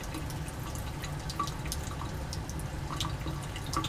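Liquid drips steadily from a reflux condenser during a Grignard reaction while a ketone is being added, a few soft irregular plinks over a constant low hum of lab equipment.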